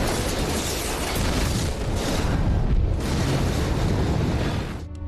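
An underground nuclear test explosion of more than 20 kilotons in Nevada in 1992 makes a loud, sustained roar and deep rumble for about five seconds, then cuts off abruptly.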